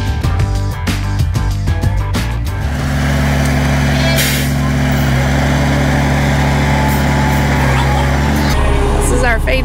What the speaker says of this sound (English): This is our feed truck and he's going to lower the boom.